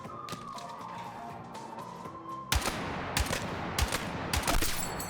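Gunfire in a video game: a run of sharp shots, first lighter, then a louder stretch of rapid reports spaced in quick bursts over a background tone.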